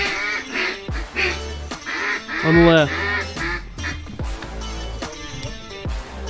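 A huge flock of ducks, roughly a thousand birds in the air, quacking at a duck hunt from a pontoon blind, the calls mixed with excited talk and exclamations from the hunters.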